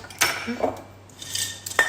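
Plates and cutlery clink and clatter as dishes are set out while preparing for a barbecue party, several close, sharp knocks and rattles spaced over a couple of seconds.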